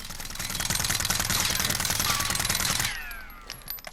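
Mini UZI submachine gun in Call of Duty Modern Warfare firing a long unbroken burst of rapid automatic shots for nearly three seconds, then stopping abruptly, followed by faint clicks and handling sounds.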